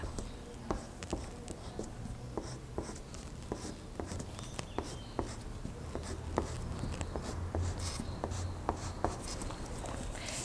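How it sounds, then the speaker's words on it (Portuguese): A pencil draws a 1 cm seam allowance around a shirt pattern piece on paper, producing a close, steady run of short scratchy strokes with faint background hum throughout. "E agora, eu dou a margem de costura ao redor dela todinha, 1 centímetro de margem de costura."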